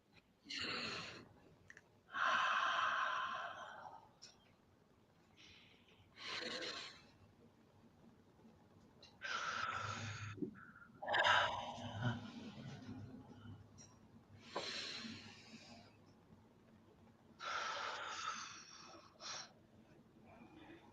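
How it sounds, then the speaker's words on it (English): Slow deep breaths during guided meditation come in long, unhurried inhales and exhales, airy and close, repeated about three times with soft pauses between, and some murmured talk mixed in. "let's close as we began by taking 3 deep breaths"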